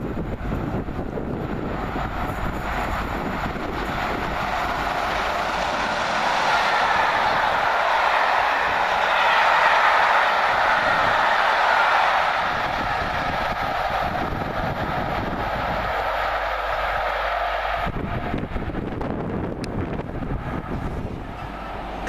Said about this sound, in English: Comes a freight train going from Felixstowe to Ditton. One of the class 90s, 9049.